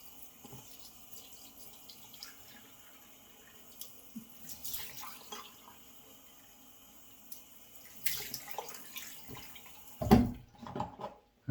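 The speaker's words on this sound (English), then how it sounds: "let me just do a couple of splashes of cold water" Faint running water and soft splashes in a sink, quiet for most of the stretch, with a louder burst of splashing near the end.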